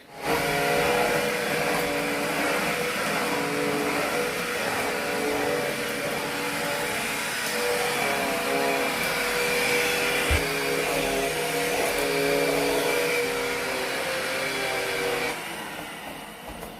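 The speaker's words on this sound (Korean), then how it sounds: "청소기." A household vacuum cleaner runs steadily in a room, a loud continuous whine with a constant hum that holds for about fifteen seconds before easing slightly at the end; no one speaks.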